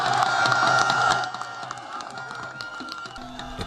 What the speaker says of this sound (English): The crowd hyped on adrenaline and fighting for space just to catch a glimpse of the Vice President chant and scream their lungs out